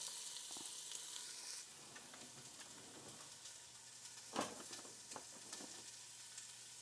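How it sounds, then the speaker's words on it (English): Onions sauté in olive oil at the bottom of a pot with a soft, steady sizzle. A brighter hiss fades early, followed by a few faint clacks of a spoon and one louder stir, with no speech. "We're gonna saute our onions"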